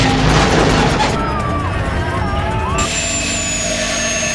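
An Embraer Phenom 100 business jet descending toward Niagara Falls before crashing in Fonthill gives a loud, roaring engine rush, with whining tones rising and falling; a narrator speaks over part of it.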